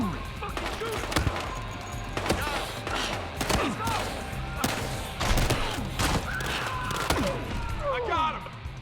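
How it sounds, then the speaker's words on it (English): Sustained gunfire in the shooter game Battlefield Hardline, with dense rapid shots, thumps and ricochet-like whines layered over each other, loud and continuous, with people talking over the shooting. "tell that to the asshole shooting up the place"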